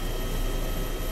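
Helicopter engine in the video game DayZ, a steady, dense broadband drone with a low rumble, constant and close throughout with no voices.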